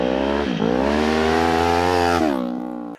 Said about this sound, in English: For our exhaust system, we went with the Yoshimura D-Cat header and slip-on.